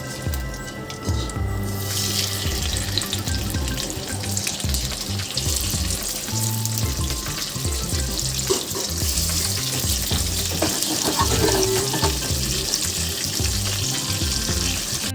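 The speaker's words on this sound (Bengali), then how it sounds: "বাদবাকি মাছগুলো এবার আমি ভেজে নেব।" Aar fish pieces frying in hot oil for a Bengali kalia, a loud, dense, continuous sizzle close by for the whole stretch, with no talk.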